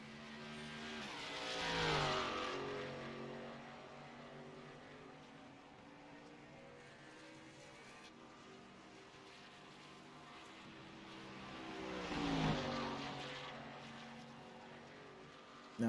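A race car in an ARCA-style stock car racing video game leaves pit road, its engine droning steadily with two louder swells as cars pass by, a continuous mid-level roar throughout.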